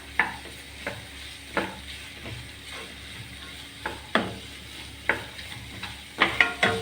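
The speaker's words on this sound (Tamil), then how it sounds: "கருவேப்பிலையும் ஆட் பண்ணி நல்லா மிக்ஸ் பண்ணி விடலாம்" Ladle scraping through kadachakka (breadfruit) and potato masala roast with curry leaves in a pan: repeated spaced scrapes and knocks over a soft sizzle, growing busier toward the end.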